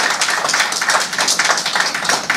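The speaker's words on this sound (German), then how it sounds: "Vielleicht einen kleinen Applaus. Schön laut," Wedding guests at a hotel reception clap loudly together, a dense, steady burst of many hands sustained throughout without any talk.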